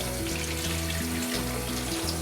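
Tamarind leaves being rinsed under running water in a home kitchen, a steady, dense splashing and hiss of flowing water with a faint background hum, close and continuous, no talking.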